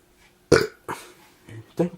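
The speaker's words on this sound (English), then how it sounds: "Don't burp when I'm reviewing." A loud belch bursts out mid-recording during a Doctor Who review blooper session, followed by a few short bits of talk and another loud vocal burst.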